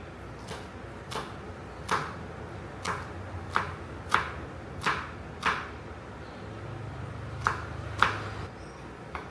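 A knife chops garlic on a board, about a dozen crisp, sharp taps spaced roughly every half second to second, close and clear with a quiet background.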